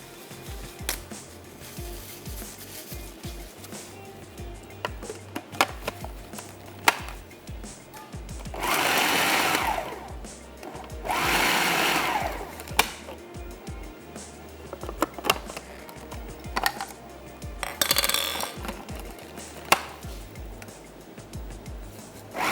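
Electric chopper pulsing in short bursts to grind cooked chicken into smaller chunks for a chicken cheese paratha filling, three loud whirring bursts of a few seconds each, separated by quieter clattering handling sounds.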